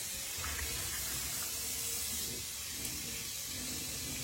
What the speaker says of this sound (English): I like to start by rinsing the lip